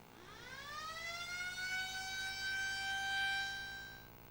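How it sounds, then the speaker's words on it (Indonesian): A civil defense siren sounds for a toll road inauguration in Aceh, winding up from low to a high sustained wail that holds steadily and then starts to fall away, heard alone. "Peresmian pembangunan jalan tol ditandai dengan penekanan tombol sirine"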